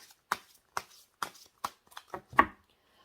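Tarot cards being shuffled by hand before one is drawn, with about seven short, crisp riffling bursts spaced roughly evenly apart, close and moderately quiet with no talking.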